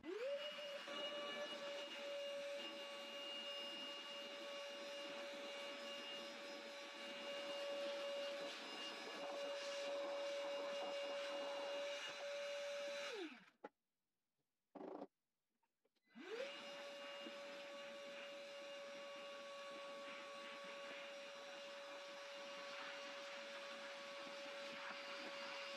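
A Carrefour cordless wet and dry vacuum cleaner runs with a steady high motor whine, switches off for a few seconds, then starts up again and runs on evenly.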